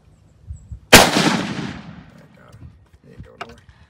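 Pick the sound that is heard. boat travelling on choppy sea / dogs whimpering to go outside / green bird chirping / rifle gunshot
rifle gunshot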